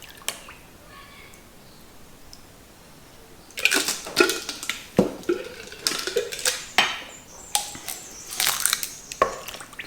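Liquid coconut oil poured onto a kitchen scale, giving a run of close, irregular clinking and splashing bursts that start suddenly after a quiet stretch and keep going with short gaps.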